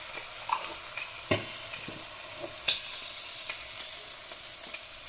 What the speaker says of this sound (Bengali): বেগুনটাকে ভেজে নেব।